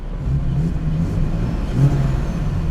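A turbocharged BMW E36 engine hums with a low, steady rumble that swells briefly, a light rev under continuous engine noise, close by.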